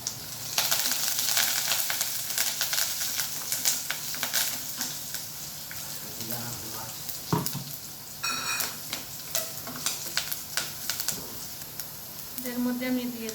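Curry leaves dropped into hot oil in a home kitchen while cooking a raw banana and lentil dish, giving a steady crackling sizzle with clicks and stirring scrapes throughout.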